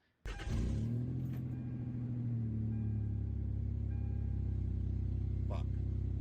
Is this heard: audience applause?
no